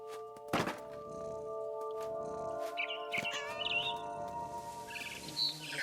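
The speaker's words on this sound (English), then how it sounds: "I tried to be quiet, but the bird was really scared." In the video game What Remains of Edith Finch, a frightened bird chirps in short high calls over a steady musical drone, with a couple of sharp thunks in between.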